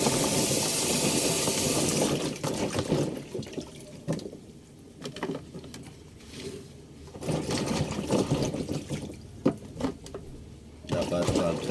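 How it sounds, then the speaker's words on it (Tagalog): Moringa flowers being rinsed under running tap water in a kitchen, a steady splashing flow with pauses and bursts over about twelve seconds, with speech in between. "Siyempre, hugasan muna natin bago natin lutuin."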